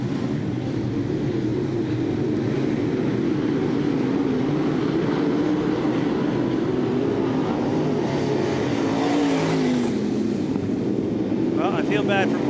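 Modified dirt track race cars roar around the oval at Southern Ontario Motor Speedway on a night race, at the green flag on the opening lap. The dense engine noise is loud and continuous, with a voice speaking over it.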